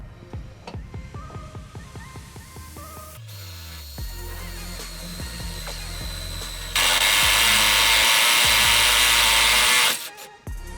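A step drill bit grinds through a metal skid plate with rattling chatter, then a louder steady high-pitched drilling run before it stops abruptly.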